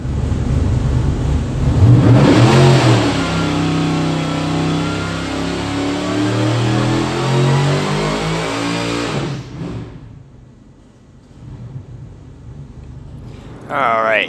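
Supercharged LS V8 fitted with a Magnuson 2650 blower roars on a dyno, building in a long loud pull before cutting off abruptly, then settling into a quieter idle and a final blip.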